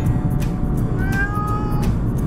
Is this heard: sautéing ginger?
no